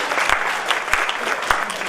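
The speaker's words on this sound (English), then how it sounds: "Let's give a round of applause for them." An audience at a women's event applauds, sustained clapping from a crowd filling the room with dense, even patter and a few sharper claps standing out.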